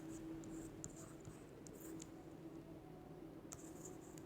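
A pen scratches across paper in a quiet room, with soft continuous strokes and a few brief, sharper ticks, close and faint, with no voice.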